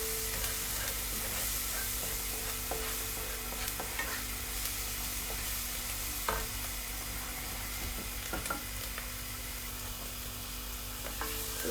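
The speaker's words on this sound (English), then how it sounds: "Onions being fried up with the spices." Onions frying with spices over high heat in a flat-bottomed pan, a steady dense sizzle running throughout with occasional soft clicks of stirring.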